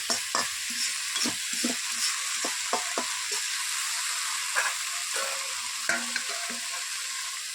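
Taro stolon curry cooking with tamarind and salt in a pan, stirred with repeated spatula scrapes and taps over a soft sizzling hiss, close up, no one talking.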